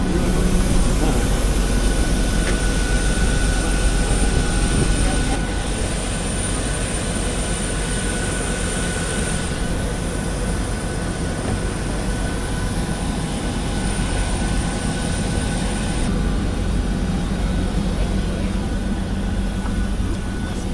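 Steady roar of airplane engines fills the air continuously, loud and close, with a constant droning hum throughout.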